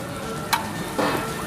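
Spices tossed into hot oil in a giant wok at a Chinese street food stall, a steady sizzle with two brief scraping clatters of stirring close by.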